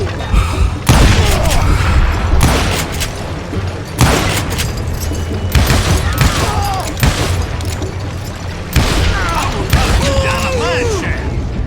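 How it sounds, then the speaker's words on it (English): Gunfire from the Western shooter Call of Juarez: Gunslinger, loud booming shots fired in bursts every second or two, punctuated by heavy thuds and mechanical clatter, with brief shouted voices mixed in. "I can shoot too!"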